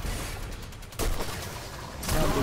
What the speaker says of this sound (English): These guns make good sounds.